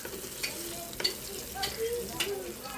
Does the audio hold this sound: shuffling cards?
no